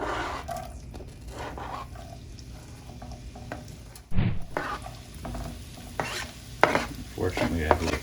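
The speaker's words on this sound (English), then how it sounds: "Let's start off by putting our onions in." Chopped onions, with a bit of parsley mixed in, fry in olive oil in a pan for stuffed peppers, giving a steady sizzle under repeated scraping stirs that grow louder and busier in the second half.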